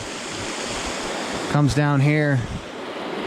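Spring-fed pond water overflowing and running downhill makes a steady, close rushing wash that fills the whole stretch, with a brief voice speaking over it midway.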